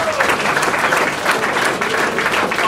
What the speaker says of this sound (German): das geht auf Beifall.